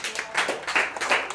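A church congregation gives a short burst of clapping during a sermon, brisk overlapping hand claps heard close and fairly loud.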